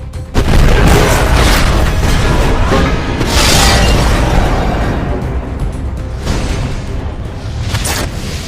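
A grenade blast tears apart an alien tripod in the War of the Worlds film: a loud, sustained booming roar with crashing, shattering debris that rumbles on for several seconds and slowly tapers.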